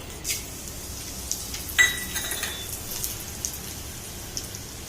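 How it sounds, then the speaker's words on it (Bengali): Nigella seeds and dried red chillies hit hot oil, giving a faint, scattered crackle of small pops and spits with a few sharper snaps, alone and without talk. "তেলের মধ্যে দিয়ে দিলাম কালো জিরে আর শুকনো লঙ্কা ফোড়ন"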